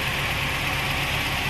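A Mazda Miata engine runs at a steady idle, a continuous even drone close by with a faint low throb and no talk over it.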